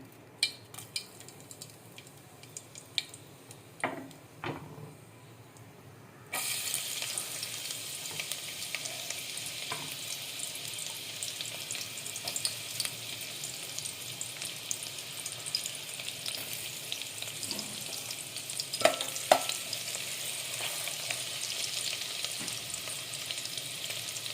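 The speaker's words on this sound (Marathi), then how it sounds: "तेल तापलेलं आहे. आता आपण तेजपत्ता आणि कांदा घालून घेऊया." Bay leaf and onion hit hot oil for a Malvani chicken curry, bursting into a loud, steady sizzle after a few quiet utensil clinks, with occasional stirring scrapes of a pan continuing under the frying.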